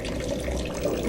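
A movie sound effect of a mummy's urine stream splashing onto the ground: a steady, continuous liquid pour like running water, constant in level and close up, with no talk over it.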